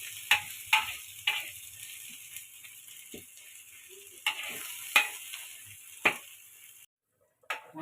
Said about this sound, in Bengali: ভালো করে নেড়ে মালটাকে ভালো করে কষিয়ে নিচ্ছি